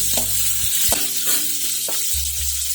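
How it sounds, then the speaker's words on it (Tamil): Garlic and tomato sizzle and fry in a pan while being sautéed for beetroot chutney. A steady hiss runs throughout, with a few soft stirring knocks and scrapes. No one speaks. "பூண்டு போட்டுக்கலாம். இதனோட தக்காளி போட்டுக்கலாம். வதக்கிக்கலாம்."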